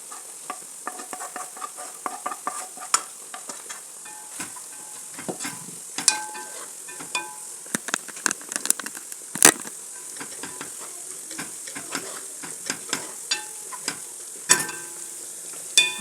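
Chicken with fried onion sizzles in a pan while a utensil stirs and scrapes it in steady irregular strokes, close and moderately loud with sharp clicks throughout, no talking.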